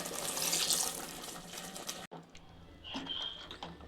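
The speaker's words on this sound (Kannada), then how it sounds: "ಸ್ವಲ್ಪ ನೀರು ಹಾಕ್ತಾ ಇದ್ದೀನಿ" Water runs and splashes steadily into a pressure cooker with potatoes and brinjal for a sambar for a couple of seconds, then stops abruptly, leaving quieter kitchen clatter and a faint high tone.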